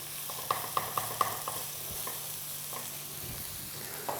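Onions frying in a pan for a keto quiche, a soft sizzle running underneath a few crisp scraping clicks as a utensil stirs them, quiet and close.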